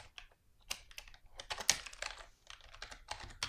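A computer keyboard is typed on quietly and up close, with quick, uneven bursts of key clicks spelling out a folder name.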